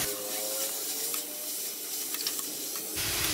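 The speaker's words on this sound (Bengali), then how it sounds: "এবার এর মধ্যে আগের থেকে সেদ্ধ করা বাঁধাকপিগুলো দিয়ে দেবো। আর এর মধ্যে দেখো মটরশুঁটিও আছে। তারপরে ভালো করে নাড়াচাড়া করে নেব।" Previously boiled cabbage and green peas are tipped into a hot pan for a fish-head cabbage dish and stirred, giving a steady close sizzling hiss with a few soft scrapes and taps, no voices.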